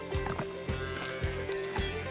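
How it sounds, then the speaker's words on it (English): A horse on a farm makes short, close, rhythmic thumps over about two seconds. "Me and Kenzie found a horse."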